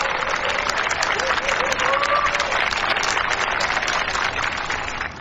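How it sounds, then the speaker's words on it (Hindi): Wedding guests clap for a newly married couple in a sustained, loud round of applause, with faint voices and a tonal sound mixed in and the clapping tapering slightly at the end. "जोर से तालियां बजाइए"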